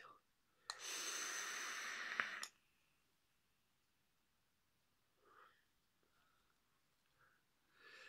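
A long, breathy exhale of e-cigarette vapour, close and hissing for about two seconds, followed by quiet pauses and soft breaths and mouth sounds.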